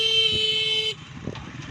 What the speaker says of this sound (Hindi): हैवी ट्रैफिक गुजर रही है जिसकी वजह से रोड ब्लॉक है जी